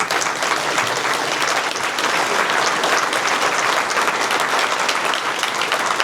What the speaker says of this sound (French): Vous pouvez les applaudir quand je cite leur nom.